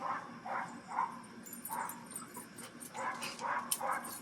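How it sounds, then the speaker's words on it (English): Dogs play and bark nearby, giving short yips, whimpers and excited barks in scattered bursts, fairly loud and close, with no one speaking. "Dogs are having fun."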